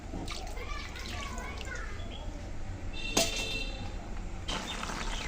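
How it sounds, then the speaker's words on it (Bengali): Water being poured into a simmering tilapia curry with taro, a steady pouring and sloshing wash throughout, with a brief sharp clink partway through, while a voice talks over it. "আর একটু জল দিয়ে দেবো।"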